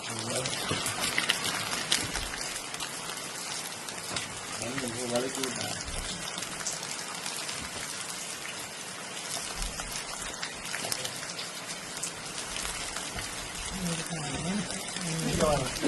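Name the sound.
rain falling on a garden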